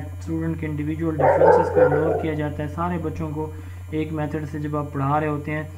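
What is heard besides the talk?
dog barking in a student's home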